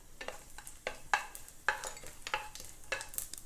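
Red chili and cumin seeds frying in oil in a pan for mutter paneer, with a series of sharp spoon clinks and scrapes against the pan over a quiet crackle, close and without speech.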